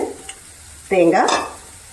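Cooked salted green gram for chundal stirred in a pan, a brief scraping, squelching stir burst lasting about half a second amid quiet background, no talk.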